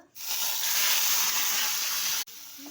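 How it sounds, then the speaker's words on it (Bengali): A loud, steady sizzling hiss of Bombay duck (lotte fish) frying in hot oil runs for about two seconds, then cuts off abruptly and resumes more quietly. "লোটে মাছটাকে এবারে ভেজে নেব।"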